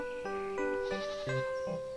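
Goats bleat in an animated fairy tale set in the countryside, a series of five or six short, nasal, wavering calls in a steady rhythm, clear and alone.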